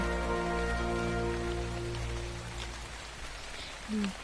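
Rain falling in the video game ARK at night, a steady broadband hiss of rainfall over a sustained low music drone, with a brief faint sound near the end.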